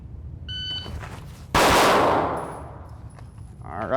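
A pistol fired at an outdoor range during a live-fire drill with a red dot sight: a few short timer beeps, then a sharp, loud report whose ringing tail fades over about two seconds.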